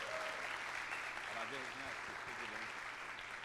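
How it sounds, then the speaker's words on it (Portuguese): Audience applause at a corporate honoring ceremony for a birthday guest, a dense steady wash of clapping from a crowd, with faint voices mixed underneath throughout. "eu vou pedir uma salva de palmas porque ele é o aniversariante do dia hoje"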